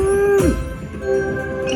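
A cow moo sound effect plays in a Carnival Cow slot machine game: a single short, mid-pitched tone that slides downward and stops, over steady casino background noise.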